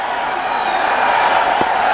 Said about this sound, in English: The crowd pick it up again.